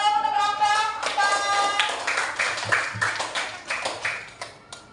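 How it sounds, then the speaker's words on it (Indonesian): A classroom of students clapping for a presenting group after their lesson on civic rights and duties, a burst of claps over a lingering tonal sound, thinning and fading toward the end. "tepuk tangan dong untuk kelompok 4."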